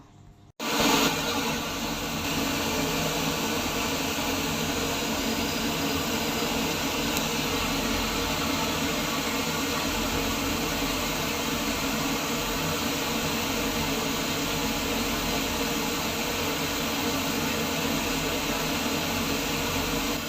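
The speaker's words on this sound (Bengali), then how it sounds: "এই কাঁচা মশলাগুলো আমি কিছুক্ষণ ভেজে নিব" Ginger garlic paste and chopped tomato frying in a pan for yogurt chicken, a steady, even sizzling hiss that holds at the same level throughout after a short quiet start, with no talk.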